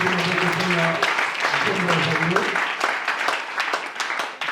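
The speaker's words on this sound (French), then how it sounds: "On acclame la gloire de notre Seigneur." A church congregation applauding during a service: dense, steady clapping from many hands throughout, mixed with raised voices and sung or shouted tones.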